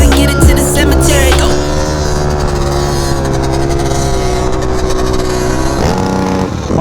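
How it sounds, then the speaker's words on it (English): A loud two-stroke engine revs on a ride, its buzzing, raspy drone rising and holding close to the listener, with pitch swells and a crackling dip near the end. "This whole video is just gonna be a whole bunch of two-stroke sound effects."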